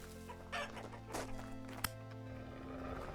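Chickens cluck in the Vintage Story video game, a few soft scattered clucks over a quiet background, broken by one sharp click, with no talking.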